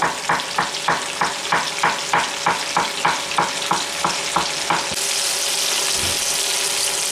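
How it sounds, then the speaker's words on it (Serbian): Bell pepper strips sizzle steadily in oil over low heat while about a dozen rhythmic stirring strokes scrape through them, then the frying settles into a continuous, even hiss. "dok paprika se prži na nekoj tihoj temperaturi"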